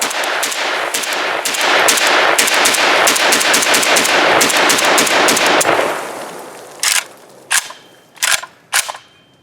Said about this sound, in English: The muzzle blast is present.